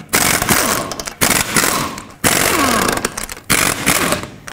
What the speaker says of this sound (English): 21 millimeter socket, take off all five of your lug nuts.